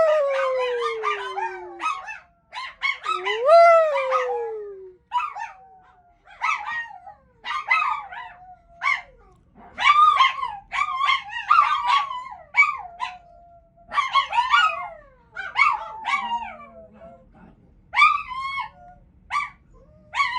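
Several dogs howl and yip together in long, wavering, overlapping calls with short breaks between bursts, loud and close, with no talking.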